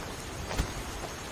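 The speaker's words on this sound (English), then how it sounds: "heavy rain." Heavy rain falls in the video game Skyrim as a dense, steady hiss of downpour with a soft low thump near the middle, no voices present.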